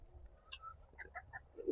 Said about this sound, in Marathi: हे कोलंबियन ब्रह्मा आहे। ब्रह्मा जातीची कोंबडी आहे।